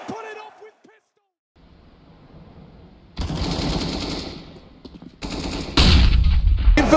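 Rapid rifle spray and bursts of gunfire from a Counter-Strike match at the IEM Cologne 2023 esports tournament, loud and dense in the second half, mixed under excited commentary and crowd noise.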